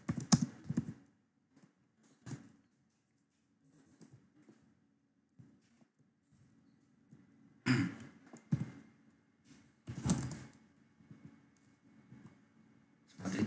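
Scattered clicks come from a computer keyboard during scripting work: short bursts of typing separated by quiet gaps, with a denser cluster of keystrokes toward the end, fairly close and faint.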